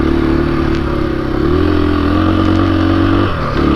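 A 2021 KTM 500 EXC-F Six Days dual-sport motorcycle engine drones loud and steady while riding, with a slight pitch rise and a rough, clattery tone.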